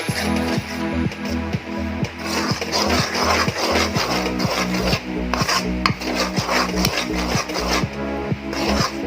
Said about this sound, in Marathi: सारखं हलवत राहायचं याचं, कारण बुडाला चिटकणार नाही यासाठी.